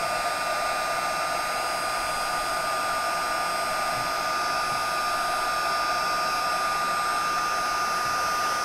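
Heat embossing tool blowing hot air to melt embossing powder on a stencilled card, a constant loud whirring hiss with a steady whine held up close and unbroken throughout.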